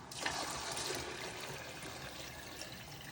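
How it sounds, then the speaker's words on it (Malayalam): Boiled hot water is poured over fried rice in a pot for dum biryani, a close, fairly soft rushing splash that settles into a steady trickling hiss. "മറ്റൊരു പാത്രത്തിൽ തിളപ്പിച്ചെടുത്ത വെള്ളം തിളച്ച വെള്ളം കേട്ടോ അതായത് ഒരു കപ്പിന് ഒന്നര എന്നുള്ള അളവിൽ വെള്ളം ഒഴിക്കുക"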